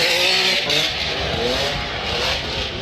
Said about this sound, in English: Standing on that twin supercharged 12-cylinder Ferrari.